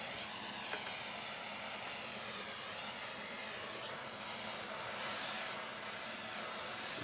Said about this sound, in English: And now I need a propane torch